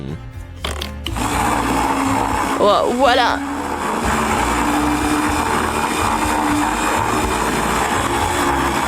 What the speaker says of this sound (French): Maintenant, je mets couleur par couleur dans le mixeur et je mélange le tout.